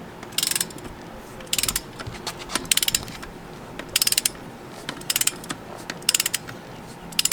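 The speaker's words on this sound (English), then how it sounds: "This is a torque wrench." A torque wrench ratchets in short rapid bursts of clicking, repeated about a dozen times with brief pauses, while Tein coilovers are fitted to a Honda Fit in a garage.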